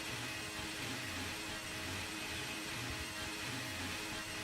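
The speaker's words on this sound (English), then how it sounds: "you can hear those very, very, very high revs as he is trying to burn off as much fuel as he can" Racing drone motors screaming at very high revs during a Drone Racing League race in Austria, a faint, steady buzzing whine that holds for several seconds without a break.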